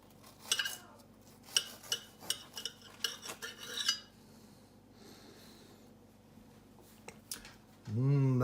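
A knife cuts open a spam breakfast burrito on a plate: a run of sharp metallic taps and scrapes close by, then a quieter stretch, with a voice coming in briefly at the end.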